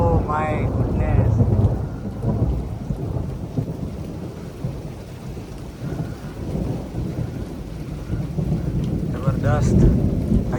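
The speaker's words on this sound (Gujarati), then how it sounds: "પેલા કડાકા ભડાકા છે." Thunder rolls loud and deep over continuous rain in a sudden storm, strongest at the start and swelling again near the end, with brief voices heard at both points.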